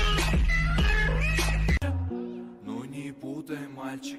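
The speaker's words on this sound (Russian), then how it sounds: "Мяу." A cat meows loudly and up close in a few drawn-out, wavering cries, with a short gap midway and no talking.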